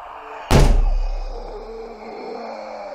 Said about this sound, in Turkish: Pencere açık herhalde, ondan kapı çarptı.